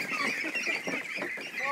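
Ducks inside a barn during a late cleaning call out in a steady, loud run of harsh honking quacks that overlap with no pause, close by.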